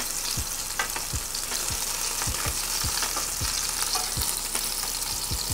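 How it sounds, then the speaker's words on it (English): Meatballs fry in a pan after being flipped, with a continuous loud sizzle and a regular series of low knocks or taps from the pan, close and without speech. "Once the meatballs get some nice color like so, I'm gonna go ahead and flip them over."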